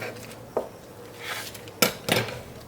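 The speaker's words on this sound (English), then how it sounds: "I am going to cut it at an angle" A kitchen knife slicing food at an angle on a cutting board, with a few sharp, separate knocks of the blade against the board spaced out amid quiet handling noise.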